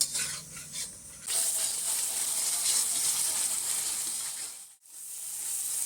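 Spice paste mixed with yogurt sizzles in a hot pan for Bengali mutton curry, a steady loud hiss that swells after a quiet start, briefly cuts out, then resumes.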